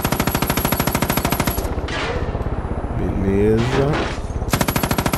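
Gunfire aimed at the player in the video game Far Cry 5 during a helicopter flight, loud rapid machine-gun bursts at the start and end with a brief pause between, and someone speaks briefly.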